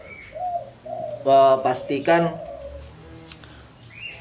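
A caged zebra dove (perkutut) gives a few rounded coos up close, and someone speaks briefly between the calls.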